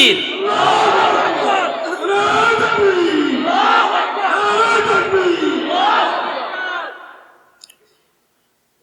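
A large crowd roars a chant in unison after a takbir call at a religious sermon gathering, three long swelling waves of massed voices that are loud and close, fading out near the end.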